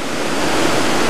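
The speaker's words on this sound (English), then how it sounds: "So I hope you can hear me now with the noise of the waterfall." Eas Fors waterfall on the Isle of Mull pours in a loud, steady, close rushing roar of falling water with no voices.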